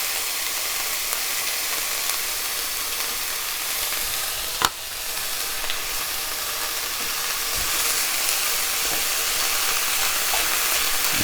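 Tomato paste from a can frying in a pan, a steady broadband sizzle and hiss running throughout with one sharp clack near the middle and faint scraping stirs, no voices.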